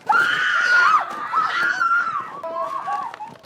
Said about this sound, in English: The first scream as the Trolloc bursts through, that's a production scream.